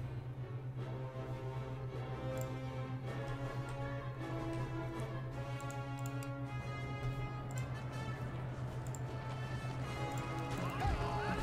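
Light horse cavalry gallop in Napoleon Total War, a steady, dense rumble of many hooves that runs throughout under a constant low hum and faint battle din, with no voices.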